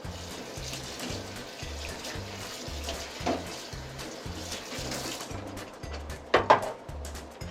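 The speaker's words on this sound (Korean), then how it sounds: "담가놓고 조금 지난 다음에 계속 물로 한번 헹궈주고" Tap water runs steadily during rinsing, a continuous wash of splashing with a faint repetitive mechanical thumping beneath and a couple of brief louder splashes near the end.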